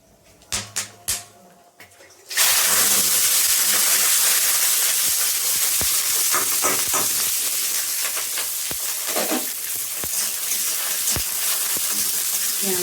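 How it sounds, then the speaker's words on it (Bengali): Whole spices sputter and hiss in hot oil in a kadai, a sudden loud sizzle that starts after a few soft knocks and stays dense with crackling pops, with a voice faintly underneath. "এখানে কড়াই তেল দিয়ে দিয়েছি তারপর দিলাম ফোড়ন"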